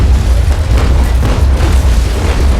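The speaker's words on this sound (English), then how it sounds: "we're going to get a solid broadside on him" Loud, close, overlapping deep booms roll together as a warship fires a cannon broadside in the naval battle game Naval Action, with a heavy low rumble running throughout.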